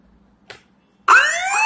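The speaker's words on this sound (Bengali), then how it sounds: "এবার কেউ যদি মোবাইলটার চার্জার খুলে নেওয়ার চেষ্টা করে, তাহলে অটোমেটিক অ্যালার্ম বাজছে।" A phone's anti-theft alarm app goes off when its charger is pulled out, blaring a loud, rising, siren-like wail that starts abruptly after a brief faint click and near silence.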